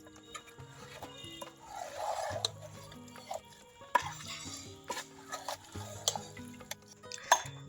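Chicken pieces being stirred in a pan for chicken masala, with repeated scraping and clinking of a spoon against metal in an uneven rhythm, close up and with no talking.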